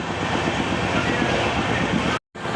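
The June Express passenger train runs steadily with a dense, continuous rumble and rhythmic clatter of wheels on rails, heard from inside the carriage, broken by a brief dropout near the end before resuming.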